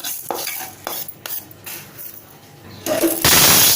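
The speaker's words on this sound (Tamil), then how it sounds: "அரிசி வந்து நல்லா பொரிஞ்சு வரணும்." Rice dry-roasting in a pan and being stirred, giving a run of scraping, rustling strokes at an irregular pace, with a brighter, louder hiss building toward the end, close by with no talking.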